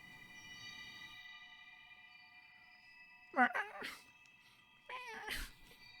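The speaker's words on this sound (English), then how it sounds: "My cat's talking." Two short, rising meows from a house cat, about a second and a half apart, fairly close and clear over a quiet background with a faint game tone.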